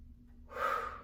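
A single deep breath taken during a seated chair yoga exercise for seniors, a soft, breathy inhale-exhale that swells in the second half, close to the mic with no talk.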